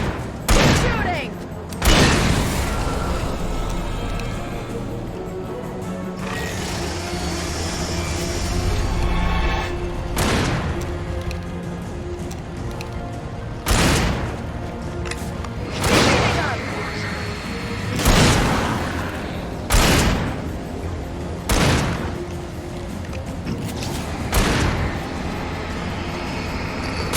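Gunfire in Alan Wake, sharp loud shots repeating irregularly over a rumbling, busy background throughout.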